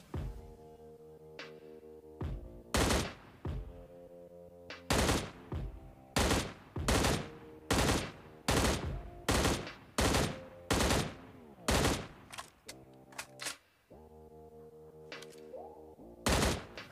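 Bursts of automatic gunfire in PUBG Mobile, a dozen loud rapid volleys in fairly regular succession over a steady game hum, with short gaps between them and no talk.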